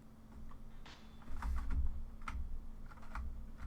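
Keys on a computer keyboard of an HP Vectra VL PC clatter in a quick, uneven series of close presses and clicks, some heavier thumps in the middle, with no voices.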